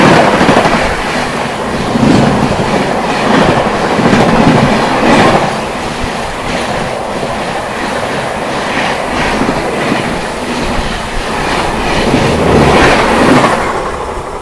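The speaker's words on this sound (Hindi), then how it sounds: "तो फाइनली दोस्तों ये आ चुकी है अपनी रांची राजधानी।" The Ranchi Rajdhani Express thunders past on Indian Railways, loud and close, its wheels giving a continuous rumbling clickety-clack over the rails for the whole stretch, with no talk.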